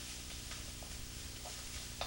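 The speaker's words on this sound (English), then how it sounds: "Stir frying is a matter of constant motion." Steady crackling sizzle of leeks stir-frying in very hot oil, with faint scraping stirs, continuous and close, no voices.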